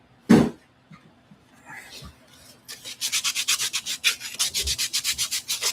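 Wood being sanded by hand with 150 grit sandpaper: a few tentative scrapes, then a rapid run of close, rhythmic back-and-forth rubbing strokes that grow steady and loud.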